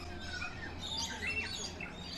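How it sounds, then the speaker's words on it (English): A small bird at a zoo chirps in quick, thin tweets over a soft background hum. The calls are faint to moderate and come in a short cluster, with no speech. "look how small this bird is and how big that stick is comparatively"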